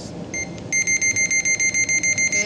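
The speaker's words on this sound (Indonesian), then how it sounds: "Buzzer test" Keyboard buzzer on a JRC marine radar sounding a test: a bright electronic beep pulsing in a rapid, steady on-off rhythm, loud and close, after a brief fainter tone, with no talk.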